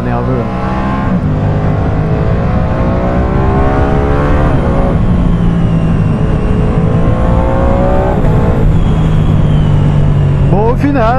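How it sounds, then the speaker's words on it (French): A Ducati Streetfighter V2 motorcycle engine revs loud and close throughout, its pitch climbing and dropping across several throttle sweeps, with a voice briefly talking over it. "Le moteur est quand même super nerveux."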